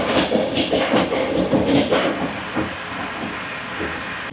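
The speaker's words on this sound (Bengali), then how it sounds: "এই হচ্ছে আমাদের ট্রেনের কারেন্ট স্পিড, 115তে ছুটছে এখন।" Electric double-track express train running at about 115 km/h between Samarkand and Tashkent, heard from inside as a loud, steady rushing roar with rattling bursts early on, easing to a smoother hum.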